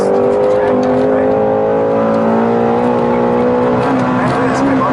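A 2015 Shelby GT350R Mustang roars at wide open throttle on track, its engine note loud, steady and rising slightly in pitch as it pulls hard. The engine sits up close from inside the car, and a voice talks over it.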